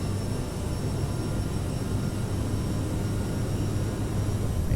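Steady jet engine roar from a simulated CRJ 700 on takeoff roll in Microsoft Flight Simulator, a continuous broadband rumble with a low hum and faint high whine, even and unbroken throughout.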